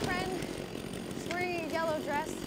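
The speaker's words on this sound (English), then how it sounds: "That sounds like a real fucking chainsaw" A chainsaw roars in a horror movie, a loud buzzing engine snarl heard behind excited, shouting voices over a couple of seconds.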